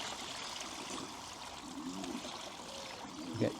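A Rzoguwex S7 fat-tire e-bike rolls slowly through floodwater, giving a steady, close rush and splash of churned water with a faint thump near the end.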